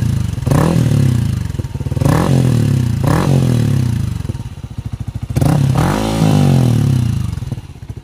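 A Yamaha Sniper 155 motorcycle fitted with a full system exhaust and silencer revs repeatedly up and down, loud and close, about four throttle blips with clattering idle between them.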